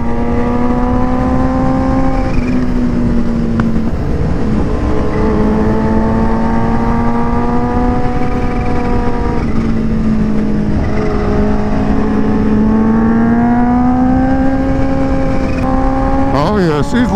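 A Kawasaki Ninja H2 supercharged motorcycle roars along autumn back roads, its engine droning steadily with rising and falling revs, loud and close as if from the rider's seat, with a sharp rev surge near the end.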